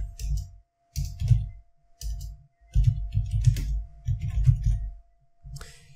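Computer mouse clicks while working in a WordPress Gutenberg editor, in short irregular bursts of sharp taps with brief pauses, close and fairly loud, no talking.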